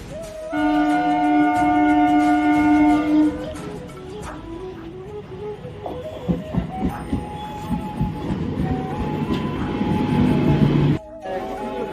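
A local commuter train toward Bongaon, starting with a sustained electric tone, then rhythmic clacking wheels and a rising rumble as it gathers speed, close and loud.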